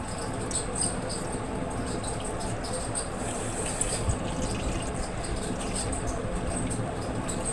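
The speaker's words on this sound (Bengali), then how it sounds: "এই যে আমি দুধটা ঢেলে দিলাম।" Milk being poured from a package into a pot while making dudh puli pitha, a steady, soft liquid rush that runs evenly for several seconds at low volume.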